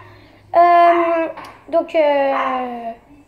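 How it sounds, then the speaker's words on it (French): Pet dogs give two long, high, whining cries close by, each a drawn-out whimpering howl with a short break between, loud and alone in a quiet kitchen. "Encore une fois, désolé, c'est mes chiens."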